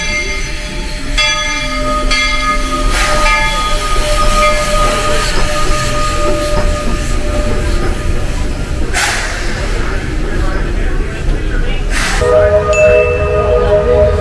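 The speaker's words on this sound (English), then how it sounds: "this is the first time going on the Walt Disney Railway." Steady rumble of the Walt Disney World Railroad train at Magic Kingdom rolling along the track, with a whistle blowing twice and faint voices beneath the continuous noise.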